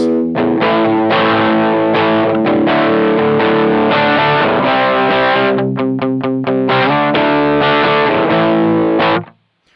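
An electric guitar played through a NuX Steel Singer overdrive pedal into a Vox amp, with thick distorted chords and a slight chorus-like shimmer, strummed continuously before ringing out at the end.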